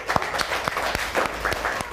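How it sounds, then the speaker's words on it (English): Children in a classroom clap briefly during a lesson on the Holi festival, a short burst of scattered, uneven hand claps close by, lasting about two seconds with no talk over it. "Clap for him, everybody."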